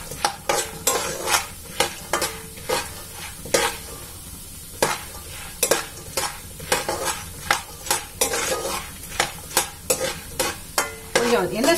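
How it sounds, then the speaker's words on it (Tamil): Puffed rice roasting in a little oil in a pan over low flame for spicy kara pori, close and busy with rapid rhythmic scraping and rattling of the grains as a spoon stirs, faint sizzle beneath. "கொஞ்சம் லேசா வறுக்கட்டும்"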